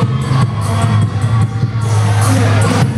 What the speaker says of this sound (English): This crowd's going bananas here.